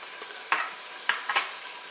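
Duck breast fries in its own rendered fat in a pan, giving a steady soft sizzle with a few brief crackling pops, close by and without talk.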